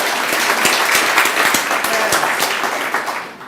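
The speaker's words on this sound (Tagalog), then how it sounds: "Palakpakan si Lord" A church congregation bursts into applause, a full room of hands clapping steadily and loudly, then thinning and fading toward the end.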